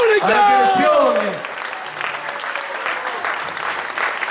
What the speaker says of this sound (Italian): Ma un applauso grande fatevelo voi, a tutti quanti voi, da soli